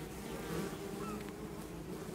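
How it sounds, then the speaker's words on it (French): A dense, steady buzzing hum of many honeybees fanning their wings to ventilate a Kenyan top-bar hive, close and continuous without pause. "Elles aèrent la ruche."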